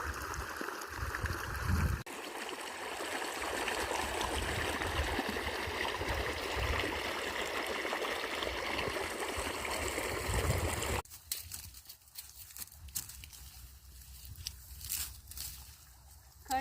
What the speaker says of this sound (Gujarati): અહીંયા જો પાણી ચાલુ છે એવડામાં પાણી જાય છે